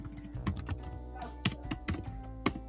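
Keys clack on a computer keyboard as a Python else statement is typed, a quick irregular run of light taps close by with a few sharper strokes and short pauses between.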